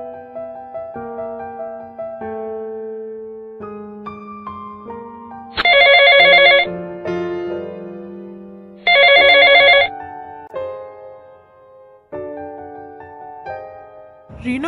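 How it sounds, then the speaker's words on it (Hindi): Phone ringing unanswered in Sakura School Simulator, two loud bursts of electronic ringing several seconds apart over a steady background melody. "रीना फोन क्यों नहीं उठा रही? कितनी बार कॉल कर रहा हूँ"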